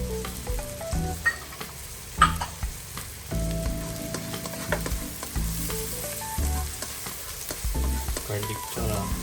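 Garlic and onion fry in a pan for chicken kaldereta, giving a continuous close sizzle broken by repeated scrapes and clatters of stirring, with no talking.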